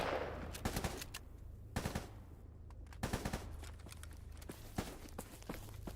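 Bursts of gunfire in a game, single shots and short volleys spaced through the stretch, fairly close and sharp over a steady low rumble, with no talk.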